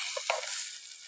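Burnt tempering for a vegetable curry sizzles in a pan, a steady hiss of frying with a small click, close and brief.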